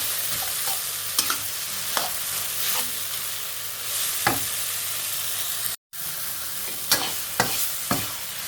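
Northern Thai style eggplant salad being stir-fried in a pan, a steady sizzle with intermittent scraping strokes of a spatula and one brief dropout.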